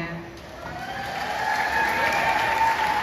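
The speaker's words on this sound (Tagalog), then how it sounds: "Bakit hindi po natin sabay-sabay hiyawan at palakpakan?" An audience at a pageant coronation night in the Philippines applauds and cheers, swelling into a steady, building wash of clapping with some tonal background sound running underneath.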